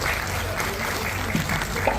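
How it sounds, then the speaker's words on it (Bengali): Applause from a concert audience at a Kolkata tribute show, given for the musicians: steady, dense clapping through the whole stretch at moderate level, with faint murmuring beneath. "আমাদের মিউজিশিয়ান দাদাদের জন্য, মিউজিশিয়ান বন্ধুরা যারা রয়েছেন তাদের জন্য একটা জোরে হাততালি হয়ে যায়।"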